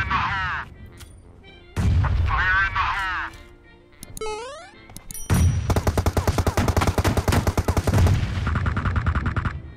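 Gunfire and grenade blasts in the PUBG Mobile battle game: voices talk at first, then a heavy impact is followed by rapid, dense automatic fire that keeps rattling loudly to the end.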